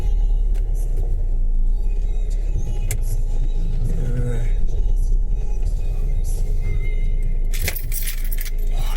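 Inside a moving car, a steady low engine and road rumble continues throughout, with occasional rattles and clicks in the cabin and a brief sharper clatter near the end.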